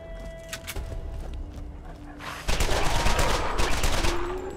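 A weapon in the video game Borderlands fires in a rapid, continuous burst, loud and close, after a quieter stretch of ambient game sound.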